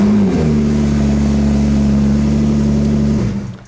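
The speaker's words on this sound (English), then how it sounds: "start your car if your Porsche 992 has got a dead battery" A Porsche 992 Turbo S engine idles with a steady, loud low drone close by, revs briefly near the start, holds a constant tone, then shuts off and fades near the end.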